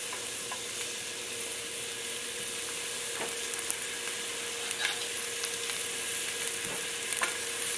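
Onions sauté in olive oil in a pan over medium heat, making a steady, even sizzle that runs the whole time, broken by faint occasional clicks of stirring nearby.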